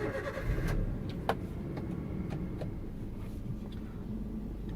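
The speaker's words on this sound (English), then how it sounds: "To start the car, press the clutch all the way in with your left foot and turn on" A manual car engine is started with the clutch pressed in, giving a low, steady idle rumble throughout with a few faint mechanical clicks and no talking.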